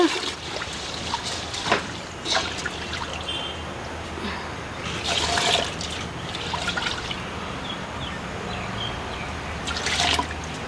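Two cups of water are poured into a pot of rice for sweet kiribath, a continuous splashing trickle with brief louder gushes, close and fairly loud.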